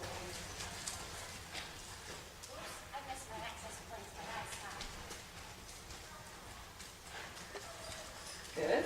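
Horse hooves walk at a slow, steady clip-clop during a riding clinic, mixed with arena noise while an instructor talks over them.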